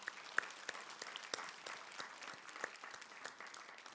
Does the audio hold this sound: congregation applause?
yes